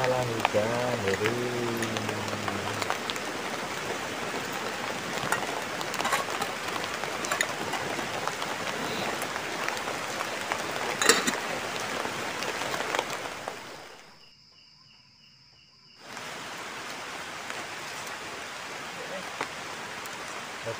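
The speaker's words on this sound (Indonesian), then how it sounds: "Malah hujan jadi." Drizzling rain patters steadily at a rainy campsite, a close, dense hiss of drops on surfaces that drops out briefly near the end before resuming, with a short tonal sound at the start.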